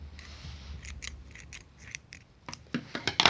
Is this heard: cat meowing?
no